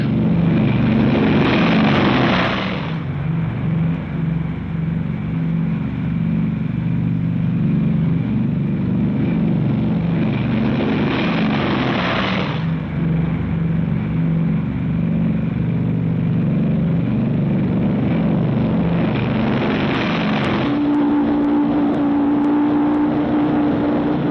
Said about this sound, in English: B29 takeoffs are a tough sweat.